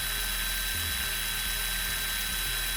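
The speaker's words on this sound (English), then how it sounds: "So we'll keep drilling this until we get it fully drilled." Steady high-pitched whine of a drill boring a hole into a diecast metal casting, running continuously at close range with a faint low mechanical rumble beneath, no talking.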